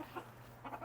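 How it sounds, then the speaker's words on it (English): A black Bantam Cochin rooster gives two short, close clucks about half a second apart, heard alone against a faint steady hum. "he is a very nice breeding and show quality black Bantam Cochin"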